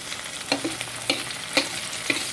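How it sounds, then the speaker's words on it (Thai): Salmon belly fries in oil with a soft, steady sizzle, punctuated by four or five light clicks and scrapes of stirring, fairly quiet and with no voices. "เดี๋ยวเราทำการทอดไปเรื่อยๆนะ"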